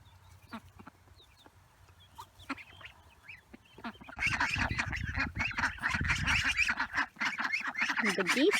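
Geese on a farm honk and call, sparse scattered cries at first that swell into a loud, overlapping chorus of honks and clucks from a close flock.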